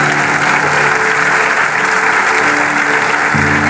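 Church congregation applauding steadily, a dense continuous wash of clapping at close range with a faint murmur underneath and no voice above it.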